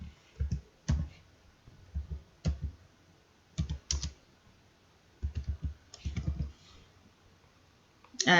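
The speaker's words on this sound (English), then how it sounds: "you can just go ahead and type it in" Someone types a search on a computer keyboard, tapping out several short bursts of quiet clicking keystrokes separated by brief pauses, with one louder clack at the end.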